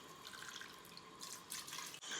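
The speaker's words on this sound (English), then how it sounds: "So I'm gonna add 2 cups of water into this." Water pours from a cup into an Instant Pot of shrimp biryani with rice, a steady splashing trickle close by that ends in a brief clunk, with no talking.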